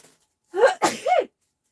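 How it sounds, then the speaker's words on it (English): A single loud sneeze, a sharp intake followed by an explosive burst, close to the mic in an otherwise quiet room. "Got a sneeze, bear with."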